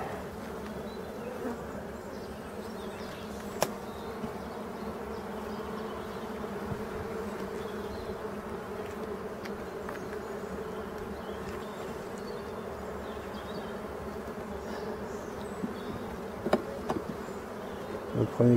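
Honeybee colony with a few drones buzzing during a spring hive inspection, a steady dense hum from close by, with occasional faint clicks and handling knocks near the end.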